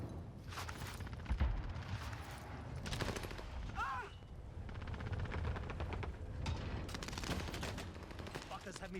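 Rapid gunfire from a Warzone Pacific match, with an M1 Garand and an Itra SMG in play, crackles in dense bursts across the whole stretch amid busy game noise, with a short whistling tone partway through.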